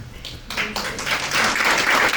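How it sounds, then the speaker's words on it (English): An audience at a live panel event bursts into applause, starting thin and swelling into a full, dense wash of clapping that grows louder toward the end. "You're not supposed to clap at getting beat up."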